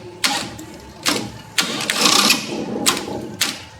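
Briggs & Stratton electric-start engine on a long-idle Hayter Osprey rough-cut mower being cranked over, several loud separate bursts of starter grinding with a brief rougher stretch in between, no catch or steady running.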